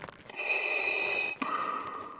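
Mechanical breathing effect from a screen-accurate Empire Strikes Back Darth Vader suit: one long, close, hissing inhale followed by a rasping exhale, with no talking.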